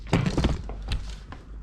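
The carriage of a knitting machine slides to the left across the needle bed, with a close clattering thunk followed by a few lighter mechanical knocks and rattles fading out.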